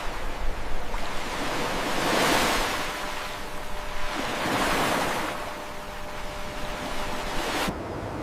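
Calm sea waves at open water swell and recede in slow, soft surges, two broad washes of hissing surf rising and fading over steady wind-like noise, with no voices.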